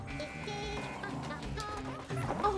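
Cartoonish sheep character bleating in the video game Ultimate Chicken Horse, a few wavering bleats over busy game music and effects, steady and fairly loud throughout.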